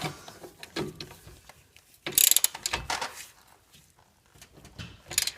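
A 24 millimeter nut is tightened on a Ford Mustang strut bracket, giving close ratcheting clicks in short bursts with metallic clatter and pauses between strokes.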